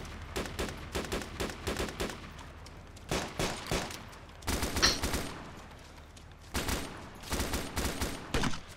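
Bursts of machine-gun fire crackle in a video game beach assault, arriving in several rapid volleys separated by short lulls, moderately loud with a steady low rumble beneath.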